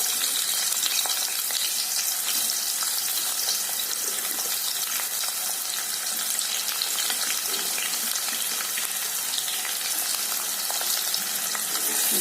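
Chopped onions and cumin seeds frying in hot oil, a continuous bright hissing sizzle heard up close, steady and unbroken without any voices.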